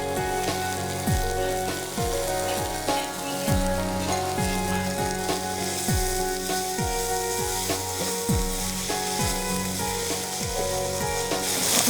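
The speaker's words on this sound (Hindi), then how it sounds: "ये देखिए हमारे आलू भून रहे हैं।" Potatoes frying in a pan for falahari fasting-style aloo sabzi, a steady close sizzle with repeated metallic scraping strokes of stirring against the pan throughout.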